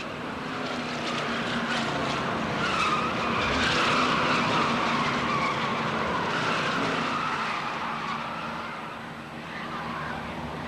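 Stock cars race in a 1986 GM/Players Racing Series event, engines roaring in a dense, continuous pack with tires squealing, loud and close throughout.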